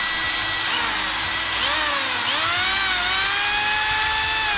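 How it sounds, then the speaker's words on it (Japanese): An electric drill powered by a 1200 W UGREEN portable power station whines steadily up close, its motor pitch rising and shifting a few times as it spins continuously without pause. "ドリルまで使える。ドリルも使えるね。"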